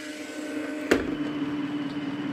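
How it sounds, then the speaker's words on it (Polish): The brushes of a Roomba robot vacuum spin during its built-in test mode, giving a low, steady motor hum broken by a single sharp click early on, with no talking. "Możemy sprawdzić działanie szczotek. One się kręcą na zewnątrz."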